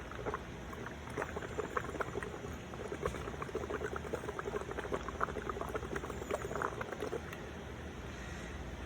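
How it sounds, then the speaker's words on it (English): Air blown through a straw into a cup of dish soap and water makes a continuous bubbling gurgle, close and fairly soft, with quick pops and churning that carry on throughout without talk. "I'm gonna start blowing bubbles, which your mama told you not to do in your chocolate milk when you were a kid."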